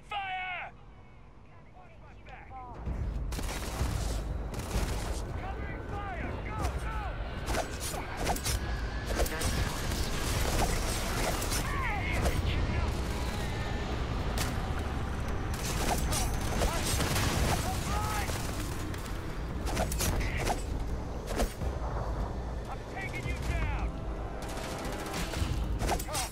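A sustained, dense firefight in Starfield, with rapid gunfire and mechanical clatter piling up over dense ambient noise and shouting voices, loud and continuous throughout.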